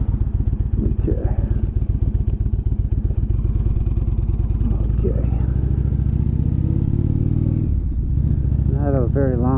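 Motorcycle on a ride, a close, steady engine rumble with rapid low pulsing throughout and a slight rise in pitch, while someone speaks over it.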